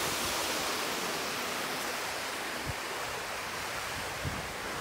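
A waterfall on the Natural Bridge hiking trail, heard as a close, continuous rushing roar of falling water with no pauses, steady and loud from start to finish.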